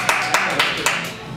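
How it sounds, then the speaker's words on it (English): Studio audience at an improv comedy show clapping in a few sharp bursts with some cheering, fairly close and loud, tapering off into a low room murmur. "Clap, cheer, yell for the ones you like."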